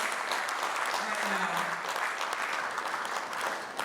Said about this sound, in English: let's just give the team a round of applause